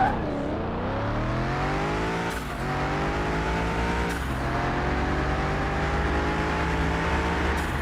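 Tuned V6 car on racing slicks tearing down the track in Car Mechanic Simulator 21, engine revving high and loud with rising harmonics cut by two sharp gear changes, steady and unbroken, no voices.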